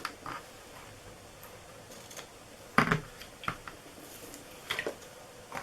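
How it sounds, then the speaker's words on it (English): Scissors trimming the top of a paper Mother's Day treat bag give a few quiet, crisp snips and clicks over a soft room hush, with one louder cluster of cuts near the middle. "I'm going to grab my scissors here."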